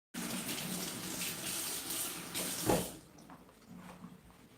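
Water runs steadily from a tap while someone washes their hands, a continuous close splashing rush that ends abruptly with a brief clunk, then fades into quiet room tone.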